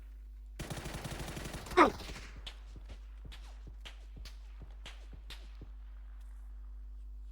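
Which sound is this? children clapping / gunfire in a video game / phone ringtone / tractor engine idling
gunfire in a video game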